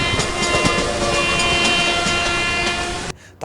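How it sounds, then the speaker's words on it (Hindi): An Indian Railways locomotive horn sounds long and loud after an emergency chain pull, a sustained blare over rumbling wheels, cutting off sharply near the end. "जो ट्रेन का ड्राइवर होता है वो काफी तेजी से हॉर्न बजाने लगते"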